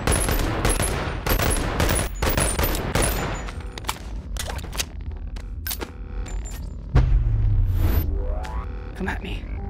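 Rapid gunfire bursts from weapons in the VR video game Boneworks, set in a warehouse level, cracking loudly in quick clusters with sharp single shots and a heavy low boom near the end, over a busy game soundscape.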